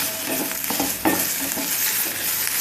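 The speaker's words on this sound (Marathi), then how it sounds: "एक मिनिटभर फ्राय करू" Onion and two green chillies crackling in hot oil for a spicy wamb fish curry, a dense close sizzle with a few spatula scrapes and taps through it.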